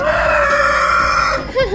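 Backyard hobby chickens kept in Germany cluck and crow loudly and close by, with a sustained crowing call and overlapping squawks over a busy, continuous background.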